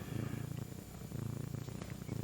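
A cat purrs close by, a low, steady rumbling purr that pulses in a rhythm and continues without a break.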